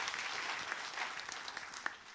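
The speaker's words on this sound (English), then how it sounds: "Round of applause for everyone." An esports audience at a League of Legends grand final claps in a short, dense burst of applause, moderately distant and even, with a few sharper individual claps standing out.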